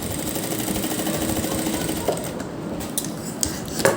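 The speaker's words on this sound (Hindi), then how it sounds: "हम इसे इस तरह से अंदर की तरफ फोल्ड करते हुए इस तरह से इसके किनारे किनारे पर हम सिलाई लगा देंगे" A sewing machine stitches steadily along the folded inner edge of fabric for a blouse neckline, a dense continuous whirring hum, close and fairly loud, with a few brief clicks near the end and no talking.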